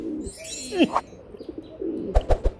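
A big-sized red Jakko pigeon, one of a pair of calling pigeons, gives a few close coos and throaty calls, with short bursts and faint flutters near the end.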